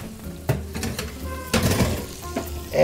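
Duck in a hot pan sizzling as it goes into a 400-degree oven, a steady close hiss broken by a few sharp knocks and clatters of cookware.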